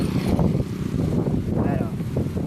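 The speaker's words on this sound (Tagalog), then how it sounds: "Oh, lakas ng hangin dito" Strong wind gusts across an open farm field on a sunny day, buffeting the microphone with low rumbling bursts while someone talks over it.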